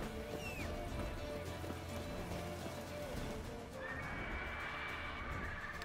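A horse neighs in The Witcher 3: Wild Hunt, a brief whinny rising over a busy bed of game sound and music, with hoof clatter and a voice faintly mixed in.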